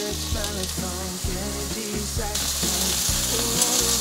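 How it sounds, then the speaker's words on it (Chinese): King oyster mushrooms fry in oil in a pan, a steady close sizzle running throughout beneath rhythmic background music. "把杏鲍菇放进来煎，把它煎成金黄色"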